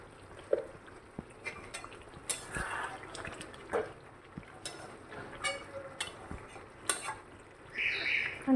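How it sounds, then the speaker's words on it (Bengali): Chicken cooking in an uncovered pot is stirred, with intermittent utensil scrapes and knocks against the pot over a soft simmering sizzle. "এরকম ঢাকনা খুলে নাড়াচাড়া করতে করতে মাংসটা অনেকটাই সিদ্ধ হয়ে যাবে।"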